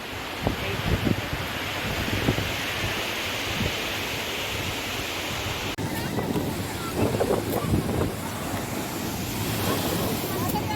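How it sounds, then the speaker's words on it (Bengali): Sea waves break on rocks at Digha beach, a constant loud wash of surf and wind across the whole stretch, with surges rising and falling. "এখানে দাঁড়িয়ে দাঁড়িয়ে আমি সমুদ্রের ঢেউগুলো আস্তে আস্তে পড়ছে, দেখো পাথরের উপর"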